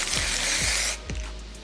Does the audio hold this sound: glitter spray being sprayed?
yes